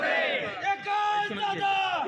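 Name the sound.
Congress party workers chanting slogans in celebration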